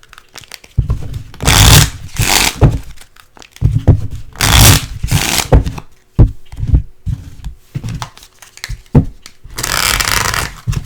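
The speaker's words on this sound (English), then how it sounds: "So let's go ahead and shuffle these guys." Tarot cards are shuffled close up in several loud riffling bursts separated by quieter rustling and handling, with no one speaking.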